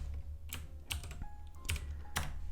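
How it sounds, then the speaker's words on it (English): Keys on a computer keyboard are struck in a sparse, uneven pattern, a handful of distinct clicks spread over a few seconds against a steady low hum. "Then we are typing our JSON"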